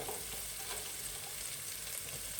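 Food sizzles and fries steadily in a pan while mutton biryani cooks, a soft, even crackle heard up close with no talking.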